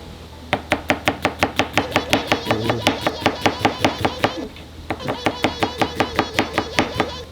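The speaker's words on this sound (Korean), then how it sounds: "그럼 양파 되게 빨리 써시겠네요" A knife chopping an onion rapidly on a cutting board, a fast even run of sharp close knocks that pauses briefly midway and then resumes at the same brisk pace.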